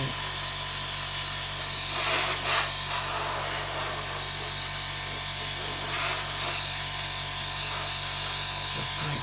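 Steady hissing airbrush paint spray on a Trumpeter 1/32 Corsair model runs continuously and close, with brief louder bursts of air now and then.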